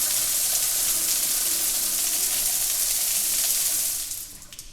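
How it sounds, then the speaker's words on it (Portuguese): A laboratory safety shower running, a loud steady hiss of gushing water that cuts off and fades near the end. "onde você tem que usar água abundante em todo o seu corpo, você vai ter que usar o chuveiro."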